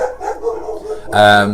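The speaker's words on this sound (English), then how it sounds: "you can hear the dogs barking" Dogs bark in the background while someone talks; a loud, sharp bark rises near the end over his voice.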